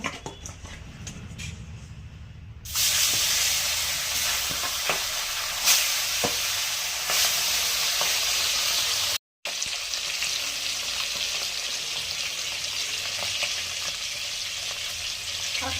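Small pona fish coated in salt and turmeric hit hot oil and sizzle loudly and steadily right after a quieter start, with a brief dropout midway and no talk.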